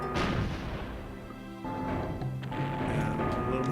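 A cannon fires in the video game Star Fox Adventures, a loud booming blast that rolls into a rumbling tail, followed by more bursts of crashing game noise.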